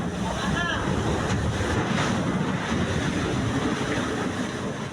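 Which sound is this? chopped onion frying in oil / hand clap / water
water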